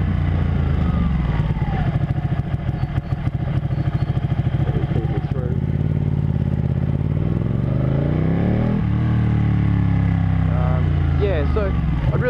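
Ducati Panigale 1199 sport bike from 2014 with about 9,000 km on it, its engine loud and close, holding a steady throbbing idle before revving up and settling back in a continuous roar.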